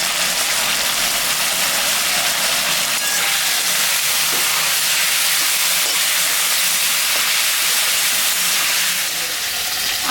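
Potato and cauliflower fry in a pan with a continuous loud, close sizzle and hiss that runs steadily without voices.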